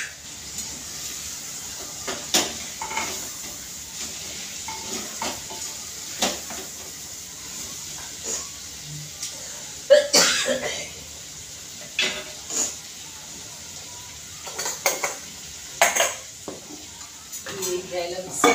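Vegetables with spices are stirred in a pan for a vegetable pulao, bringing intermittent scraping and clinking of a spoon on metal over a faint sizzle, close by and in uneven bursts.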